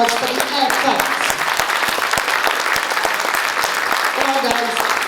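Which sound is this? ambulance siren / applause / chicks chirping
applause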